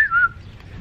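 One short, sharp whistle to call a dog sounds nearby, a quick falling tone that fades into quiet background.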